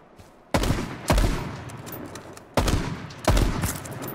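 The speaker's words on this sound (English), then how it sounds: "Oh, they're shooting me." Gunfire in the video game H1Z1: two bursts of several sharp, loud shots each, the bursts separated by a short pause, heard alone without speech.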